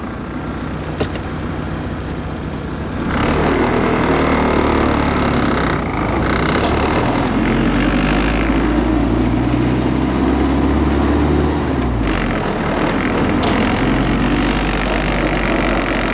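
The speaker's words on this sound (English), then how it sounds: "This car has a nasty exhaust leak." A car's engine turns over and settles into a loud, rough, steady idle with a nasty exhaust leak, a continuous close rumble that runs for most of the clip with no talking.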